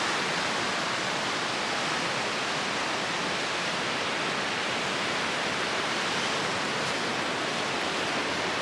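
Steady, unbroken surf hiss from Lake Michigan waves breaking along the shore, a dense even roar at constant level with no talking.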